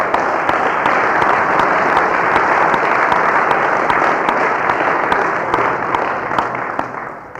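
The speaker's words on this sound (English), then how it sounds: "And y'all need to applaud yourselves too." Audience applause at a Narcotics Anonymous meeting, a steady loud wash of many hands clapping close by, sustained throughout and tapering slightly at the end.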